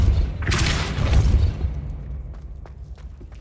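Depulso spell effect in a Harry Potter video game: a heavy, booming blast that hits at once, holds loud for about a second and a half, then fades into faint scattered clicks.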